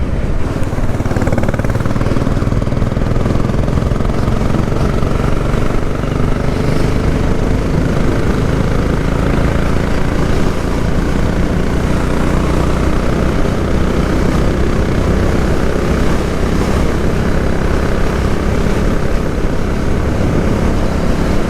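A Royal Enfield 500 Classic motorcycle cruises at about 70 mph on a dual carriageway at half throttle, its engine drone and heavy wind roar steady and loud throughout without letting up.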